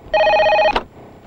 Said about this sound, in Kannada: ವಿನೋದ್ ಡೆಲ್ಲಿಯಿಂದ ನಿಮ್ಮ ಫೋನ್